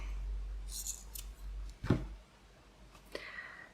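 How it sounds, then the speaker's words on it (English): Scissors snipping off thread ends on a handmade double book page pocket craft: a few quiet, separate snips and clicks close by, with no talk. "Snip those off."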